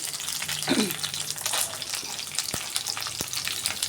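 Green chilies fry in hot oil in a pan for an egg masala, a loud, close, continuous crackling sizzle with a few sharp clicks from stirring and no voices.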